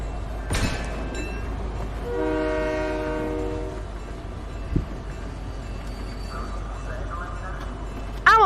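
A train rolls along in a multiplayer video game, a steady rumble carrying a loud horn blast near the start, while players chatter over it.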